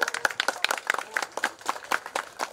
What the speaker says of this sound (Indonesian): Tepuk tangan Bapak Ibu.